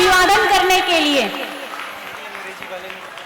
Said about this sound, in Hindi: आप लोगों की तालियां जारी रहना चाहिए इनका अभिवादन करने के लिए